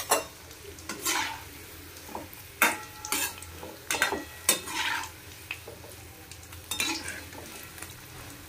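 Chili chicken and paneer fry in a pan under a low sizzle, with repeated sharp scrapes and clinks of a spatula against the metal at irregular intervals.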